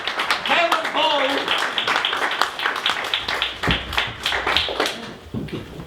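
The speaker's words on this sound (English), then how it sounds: "Can we give a round of applause, please, for Kevin Paul?" A masterclass audience claps through a short round of applause, with overlapping voices and some cheering over the quick, steady patter of hands.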